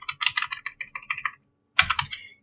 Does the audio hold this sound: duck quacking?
no